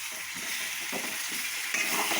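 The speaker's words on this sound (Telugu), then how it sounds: "చూసారు కదా, మామిడికాయ ముక్కలు మొత్తం అంతా కలిపేసుకుందాం." Raw mango pieces stirred and frying in a hot tempering, a steady close sizzle with soft scraping strokes of a spoon against the pan. No one speaks.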